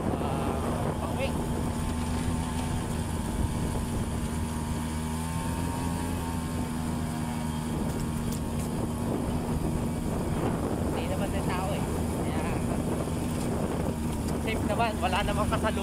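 A motorcycle engine drones steadily on a bumpy road, with constant wind rush over the microphone and occasional talk.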